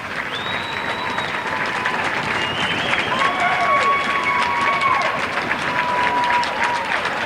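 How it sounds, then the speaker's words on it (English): Fans on both sides applaud at a girls' junior varsity basketball game, sustained clapping filling a gym, with sneaker squeaks and faint voices mixed in. "Fans on both sides applauding"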